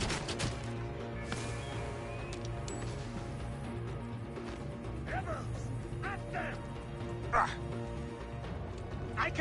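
A dog barks in Assassin's Creed Origins, with several sharp barks scattered through the second half over dense game ambience, and a voice speaking near the start.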